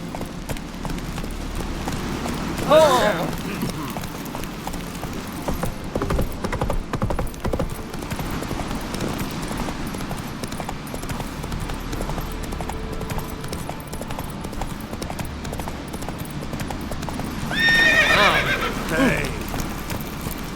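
Roach, a horse in the video game Witcher 3, gallops with steady clip-clop hoofbeats throughout, breaking into loud whinnies near the start and again toward the end over a low rumbling game background.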